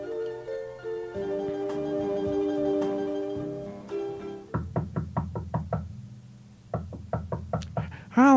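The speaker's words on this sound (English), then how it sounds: "a knocking by person or persons unknown interrupts their packing" Someone knocks at a front door in a dorm room scene with a background music score. Two quick series of sharp, close raps follow a musical passage, and there is no talking.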